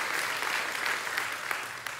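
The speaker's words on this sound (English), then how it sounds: "Give God a round of applause." Church congregation applauding during a sermon, a brief wash of many hands clapping at moderate level, steady and diffuse for about two seconds.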